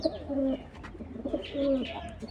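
A pair of racing pigeons, a 2016 cock and a 2023 hen, coo in two soft, close rolling phrases with a pause between, over a low background hum and no talking.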